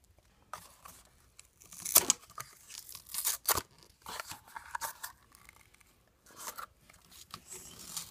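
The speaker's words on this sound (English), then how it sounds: "And I'm going to put the sticker on my flower pot." Sticker backing peeled and pressed onto a small toy flower pot from a Hello Kitty Valentine mailbox set, giving close, quiet tearing and crinkling bursts scattered over several seconds with no talk.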